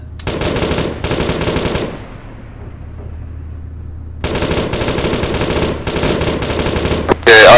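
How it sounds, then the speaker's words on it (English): Bursts of machine-gun fire from a tank in a combat video game: loud, rapid sustained volleys, a break with fading echo, then longer continuous firing, close and dominant. "gunner engage with machine gun, not the autocannon"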